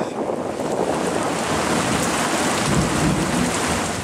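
A rain squall sweeps across open water with strengthening wind, a loud, steady, dense hiss of heavy rain and gusts that fills the whole stretch without a break.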